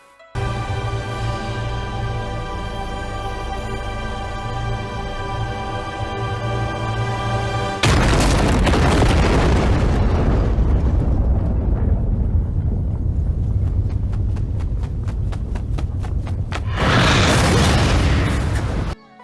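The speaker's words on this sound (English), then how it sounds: "Listen to this impact of the explosion." A massive explosion in the Demon Slayer anime, a sustained tonal buildup giving way to a loud, roaring blast that rumbles on, followed by a second powerful burst near the end.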